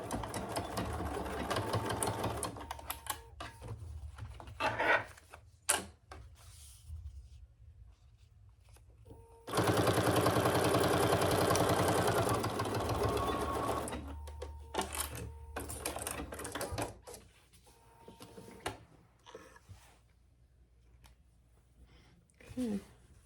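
A sewing machine basts cotton fabric along the bottom of a fabric basket, with short bursts of rapid mechanical stitching chatter and one long steady run near the middle, broken by pauses where a person talks.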